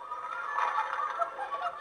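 Chickens clucking nearby in a short, busy burst of overlapping hen calls, fairly soft and continuous with no voices.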